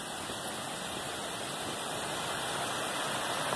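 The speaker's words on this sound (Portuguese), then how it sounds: "Muito forte o barulho da cachoeira lá embaixo." Waterfall roaring below a steep hiking trail on the Trilha dos Tropeiros in Tajuvas, Morrinhos do Sul, heard as a steady, dense rush of water that stays even and unbroken throughout.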